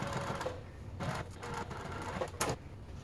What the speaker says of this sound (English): now go ahead and continue sewing